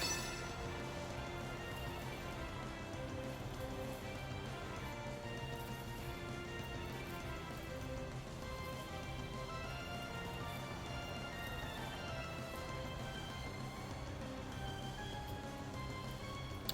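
Rain weather effect in a Pokémon video game battle: a steady, quiet patter of falling rain loops continuously without pause under faint game music.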